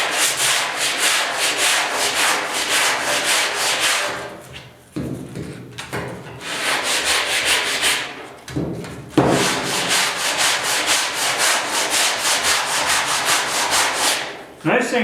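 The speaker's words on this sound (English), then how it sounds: "Nice thing too about sanding when your filler's a little softer" Steady abrasive scraping of sanding soft body filler on a 1972 Ford 4x4 short box bed, rhythmic back-and-forth strokes with two brief pauses, close and loud throughout.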